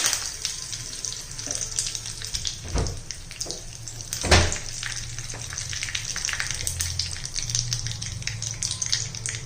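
Curry leaves and mustard seeds crackle in hot oil for tempering a tricolour dhokla, a continuous close sizzle with a few sharp spits and pops and light utensil knocks.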